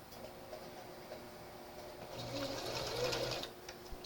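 Sewing machine stitching thin knit fabric straps, a faint, steady mechanical whir and tick that swells slightly louder midway, with a quiet room hum beneath.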